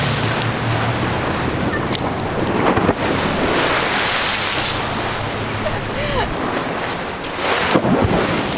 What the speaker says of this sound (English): there's some big waves